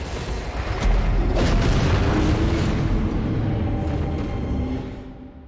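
Heavy gunfire booms in Bloodborne, a loud blast near the start swelling into a sustained rumbling roar that holds for several seconds before fading.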